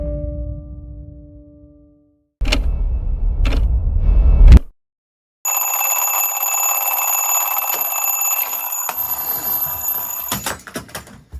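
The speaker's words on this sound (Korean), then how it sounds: "그럼 알람시계와 함께 잠들어 보겠습니다" An alarm clock rings loudly at close range, first a low hum fading out, then harsh bursts of mechanical ringing, a pause, and a long continuous piercing bell that cuts off abruptly.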